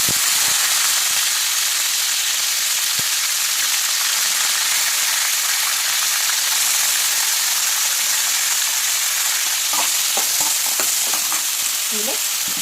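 Brinjal pieces sizzle and fry steadily in a hot pan for a chutney, a continuous loud hiss with a few sharper crackles and spatters near the end.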